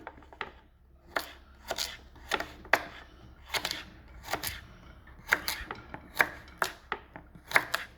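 Carrots are chopped with a knife, rapid crisp knocks on a board coming in quick bursts with short pauses, close and clear, no talking over them.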